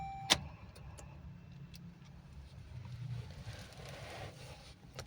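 Toyota Hilux G 4x4 manual starting up: a sharp click at the start, then a faint engine turning over and settling into a low, distant-sounding idle with no talking.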